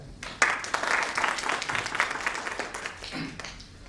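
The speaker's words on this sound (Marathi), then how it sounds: "तिघांसाठी टाळ्या." A seminar audience applauding three people, a burst of close, dense clapping that swells quickly, holds for a couple of seconds and then thins out and fades.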